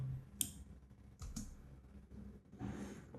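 Computer clicks while working in Adobe Premiere Pro, a few sharp, isolated clicks spaced apart over quiet room tone, near and faint, with no talking.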